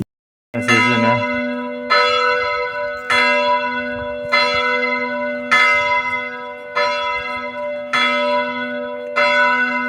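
Church bells toll in a steady, slow sequence, each loud ringing stroke decaying with a long humming tail, about seven strikes at even intervals with nothing else heard.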